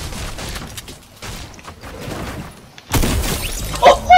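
Gunfire in a shooter game: a burst of shots with a sharp shattering crack near the three-second mark, followed by a few loud pops against a low steady background.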